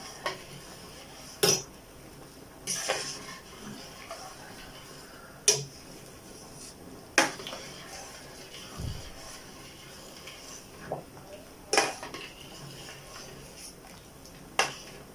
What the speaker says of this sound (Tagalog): Kailangan halo-haluin natin para hindi magdikit-dikit.